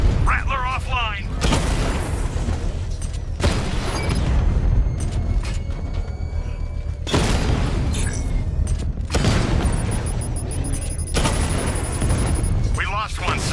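Gunfire and heavy explosions in Batman Arkham Knight during a drone battle: dense booming blasts and rapid automatic fire in loud bursts, with mechanical whirs and radio-style voices talking over the combat.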